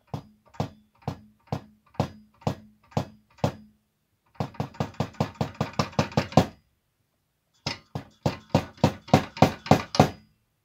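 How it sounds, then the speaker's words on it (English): Kick drum pedal striking a Roland KD-120 electronic kick pad in a quiet room, sounding as dry, close thumps: a slow even series of single hits, then a faster run, a pause and another quick burst. "we get a bit of pedal and noise there, obviously this sound of this pedal here"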